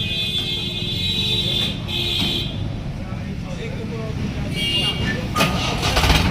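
A Mahindra tractor engine needing a full engine overhaul runs steadily at close range with a continuous low rumble, rising slightly toward the end as it is revved, while a voice speaks over it.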